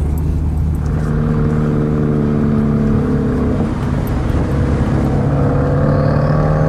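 A 2015 Subaru WRX inline-four engine drones steadily with a deep, continuous baritone rumble and a slight rise in pitch partway through, close and loud.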